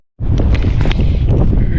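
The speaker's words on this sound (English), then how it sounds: "It's pretty windy out" Wind gusts outdoors on a nature hike at Port Bay and buffet the microphone with a heavy, low rumble that starts abruptly and keeps going, with a faint rustle above it.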